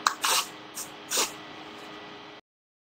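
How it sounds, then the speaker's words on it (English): Several short hissing blasts from a deodorant aerosol can, followed by one longer sustained spray that stops abruptly, close and fairly quiet. "You give it a spray."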